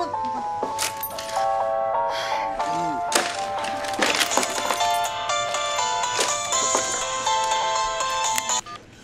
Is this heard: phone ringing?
yes